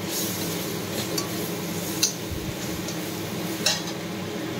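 Spice masala with cumin powder and turmeric stirred and fried in a pan, a steady sizzle under scraping with a couple of sharp metallic clinks of the spoon against the pan.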